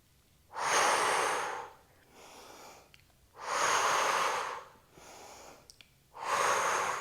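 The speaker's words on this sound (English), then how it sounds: "Breathing in through the nose and out through the mouth." A person breathing during a Pilates workout with hand weights: three loud, close breaths drawn in through the nose, each answered by a softer exhale, in a slow, even rhythm with no talking.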